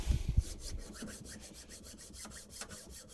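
A hand plane blade being sharpened, rubbed back and forth on a stone in a steady rhythm of soft rasping strokes, close but quiet, with no talking.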